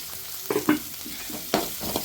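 Chopped onion fries in oil over medium heat while a spoon stirs it, giving a soft background sizzle broken by a few close scraping strokes against the pan.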